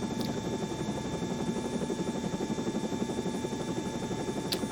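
A training helicopter hovers close by during a flight lesson takeoff, its rotor and engine giving a steady, loud, pulsing drone throughout, with no talk.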